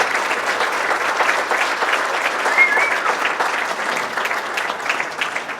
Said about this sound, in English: let's give a round of applause to the Board of Directors of Texas Trees